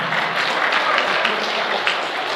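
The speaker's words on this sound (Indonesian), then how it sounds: "Tepuk tangan untuk Indonesia" Crowd at a religious lecture gathering in Mecca during Ramadan applauds for Indonesia, a dense, steady wash of clapping filling the whole moment without a break.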